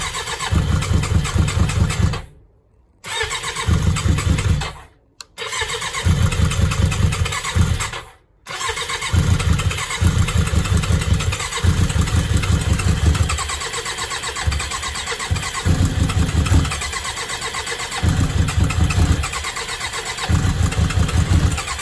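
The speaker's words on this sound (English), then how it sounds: "So now I'm gonna fire her up to see everything is working as it should." A 1993–96 Suzuki GSX600F motorcycle under restoration cranks over with its choke on. After several short starter bursts broken by pauses, it catches and settles into a steady, close mid-pitched idle.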